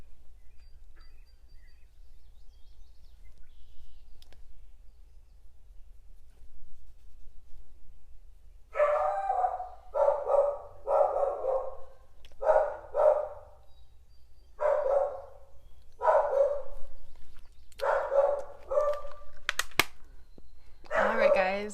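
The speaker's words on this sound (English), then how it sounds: "please excuse the dog barking in the background." Dog barking in the background, a run of about a dozen evenly spaced barks after a quiet stretch, moderately loud and steady.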